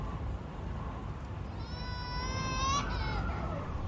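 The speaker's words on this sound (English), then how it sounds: "It sounds like a child crying." A child cries in a thin, high, wavering wail that rises out of steady background noise partway through, heard at moderate distance and lasting a couple of seconds.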